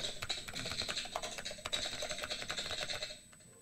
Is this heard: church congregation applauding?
no